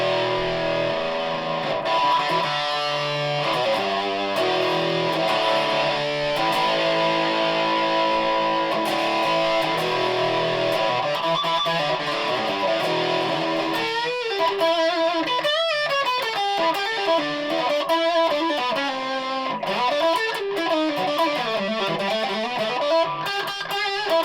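A 1970s Japanese-made Les Paul electric guitar played through a Rat distortion pedal: sustained, buzzing distorted chords give way to quicker, bending lead runs, loud and continuous with no talking.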